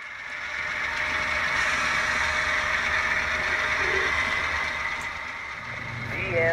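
A BNSF freight train emerges from a tunnel onto the upper level at Essex on Marias Pass, giving a steady, fairly distant rumble of engines and rolling cars that swells slightly toward the end.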